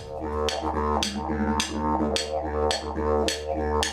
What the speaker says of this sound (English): a musical instrument made by Aboriginal people and has been used for thousands of years